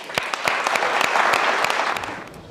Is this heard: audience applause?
yes